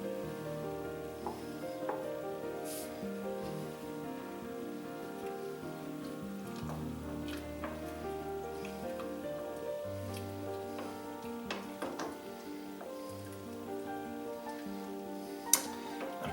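Clam chowder with potato is stirred in a pot, giving a quiet, steady wet bubbling and sizzle with scattered soft scrapes and clinks of a utensil over about sixteen seconds.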